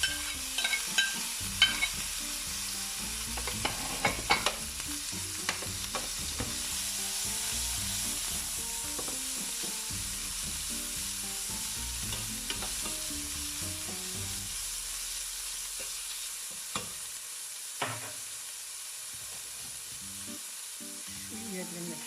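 Chicken cooking in a pan, a long close sizzle with repeated clattering stirs and utensil knocks through the first two thirds, thinning to a quieter hiss with a few sharp taps near the end.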